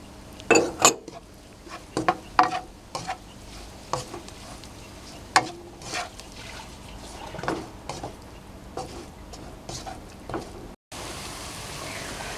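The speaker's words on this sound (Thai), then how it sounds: "เราจะใส่หัวไชโป๊ลงไป ใส่ลงไปผัดรวมกันเลยนะคะ" Pickled radish is stir-fried in melted sugar in a pan, with sharp scattered clinks and scrapes of a utensil against metal over a faint low sizzle, fairly quiet and close.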